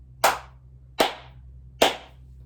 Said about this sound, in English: So I'm going to clap 3 times.